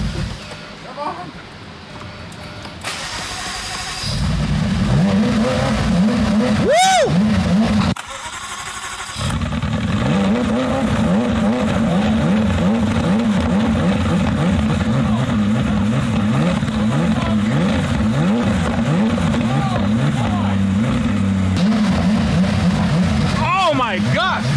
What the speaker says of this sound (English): So here's just a quick clip of him starting the 675 LT for you.